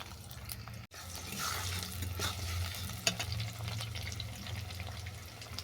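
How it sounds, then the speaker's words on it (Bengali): Chopped onion goes into hot oil and fries with a steady, close sizzle, broken by a few light stirring clicks and scrapes in the pan. "ফোড়ন ভাজা হয়ে গেছে এরপর দেবো পেঁয়াজ কুচি"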